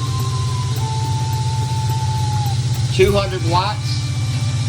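An Off Energy Micro Power 3b Gen 1 generator engine runs steadily under an electrical load of light bulbs, a low continuous drone with a person talking over it.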